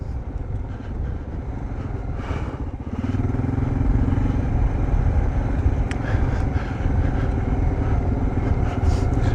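A Kawasaki KLR650 single-cylinder motorcycle rumbles steadily on a ride through rainforest in Conondale National Park. The engine is heard close up with wind and clatter, and its drone swells louder after a few seconds.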